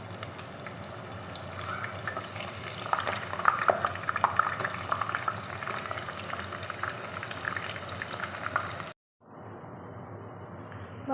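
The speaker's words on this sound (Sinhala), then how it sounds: "දැන් වම්බුටු බදිමු." Brinjal frying in hot oil in a pan, a steady dense sizzle and bubbling that runs for several seconds, then cuts briefly to near silence before a thinner sizzle resumes.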